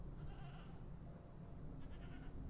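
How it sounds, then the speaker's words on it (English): Mountain goats perched on rocks on a mountain climb in the video game Icewind Dale: Rime or Reason bleat faintly, several short bleats spread over a loud steady background. "There's some goats up there."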